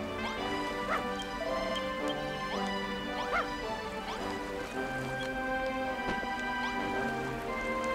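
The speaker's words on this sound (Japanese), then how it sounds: "犬" A dog in Dragon Quest Builders 2 barks and whimpers in a series of short, high yips and whines over a steady game background.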